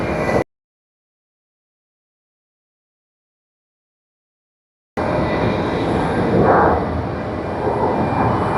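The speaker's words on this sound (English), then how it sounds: "Okay, let's try getting Japan Airlines from Bangkok. That's the Boeing 787-9 Dreamliner." A Japan Airlines Boeing 787-9 Dreamliner from Bangkok at Tokyo Haneda Airport: after a long stretch of silence, a steady broad jet roar rises at a moderate distance and swells slightly, with no voices.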